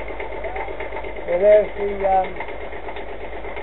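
A boat's inboard engine, restarted after sitting unused for about two weeks, idles with a low, even rumble beneath a voice talking.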